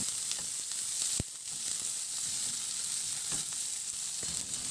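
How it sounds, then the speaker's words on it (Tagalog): Onion sautés in hot oil in a pan, giving a continuous close sizzle with a few sharp utensil clicks and scrapes and one brief dip; no talking. "Maglagay na rin ako ng mantika sa kawali at igisa ko na rin yung sibuyas"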